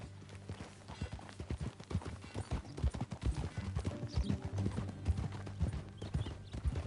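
Steady clip-clop of horse hooves in Red Dead Redemption 2, a continuous riding rhythm over a bed of game music, with a brief soft whinny partway through.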